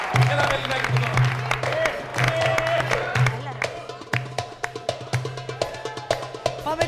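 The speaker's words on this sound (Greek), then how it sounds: "Ένα χειροκρότημα, δώσε χειροκρότημα" An audience claps at a Greek music show, the crisp, loud hand claps building into steady applause after talk over music.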